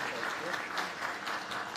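An audience at a Tokyo Marathon awards ceremony applauds a winning runner with brief, even clapping that sounds moderately distant in a large hall.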